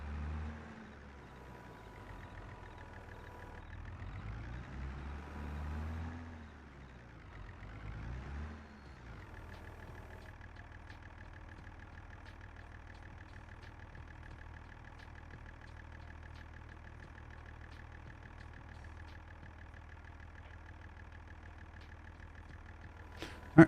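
Tractor engine in the video game Farming Simulator 22 on the Zielonka map, a low diesel drone that shifts and surges early on, then settles into a steady, even rumble for the rest of the clip with no talk.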